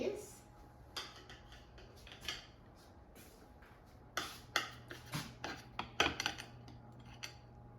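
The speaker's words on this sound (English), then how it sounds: "And now let's cut a piece." A knife cuts a slice from a lemon Bundt cake in a series of soft, close clicks and scrapes against a plate, irregular and faint in a quiet room.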